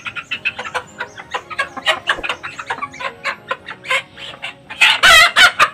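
Chickens cluck in a rapid, busy series close by, and a rooster crows loudly near the end, a farmyard scene of free-roaming fowl beside a house.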